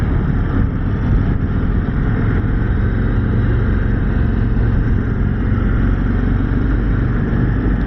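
A Harley-Davidson Street Glide CVO motorcycle riding on the road, its engine a loud, steady low rumble blended with heavy wind noise throughout, close to the microphone with no speech.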